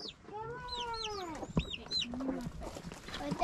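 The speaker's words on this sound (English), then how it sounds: "This is how we keep our chickens." Chickens on a homestead clucking and giving drawn-out squawks in a busy coop, with rising and falling calls layered close by over a steady background murmur.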